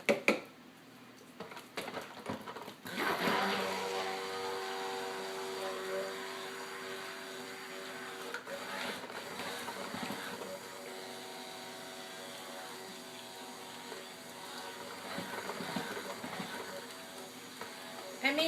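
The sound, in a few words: mixing a batch in a bowl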